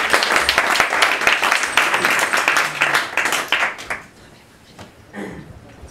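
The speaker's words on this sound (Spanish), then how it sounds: "quiero pedirles un fuerte aplauso para recibir el primer cuento de la noche" Warm applause from a small evening storytelling audience welcoming a storyteller, brisk clapping that dies away after about four seconds into near quiet with a last scattered clap.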